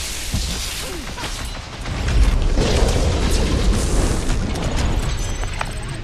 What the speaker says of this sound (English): Rocket! Fireworks!